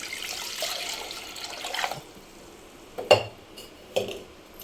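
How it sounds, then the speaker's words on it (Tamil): Water is poured into a cooking pot, running and splashing for a couple of seconds, followed by a few sharp clanks of metal cookware against the pot. "இப்போ இதில் தண்ணி ஊற்றிக்கலாம்"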